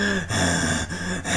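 A voice imitates heavy breathing in a few short, loud, rasping gasps, each broken by a brief pause.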